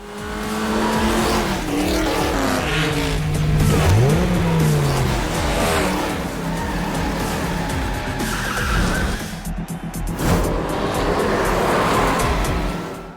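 Race cars roar off the line at the start of a race, engines revving hard and tires squealing and skidding, with sustained loud motor noise and rising pitch sweeps close by.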